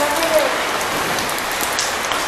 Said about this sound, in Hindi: बहुत जोर की हो रही बारिश।